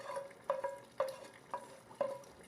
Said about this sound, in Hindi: इसमें चम्मच चलाएंगे।